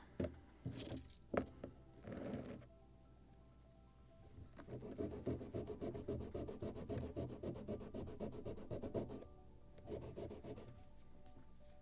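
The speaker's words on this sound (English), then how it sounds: "Maybe a little more sanding right here, and it is already perfect curve." Hand sanding of a curved wooden part for a Midwest kit model of a Muscongus Bay lobster smack, with short rubbing strokes first, then a long steady run of rasping passes and a few more strokes at the end, close and quiet.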